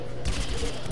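Video game weapon fire in PvZ Garden Warfare 2, a quick loud burst of overlapping shots lasting under a second.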